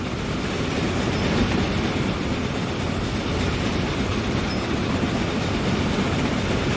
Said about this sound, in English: here comes our food trains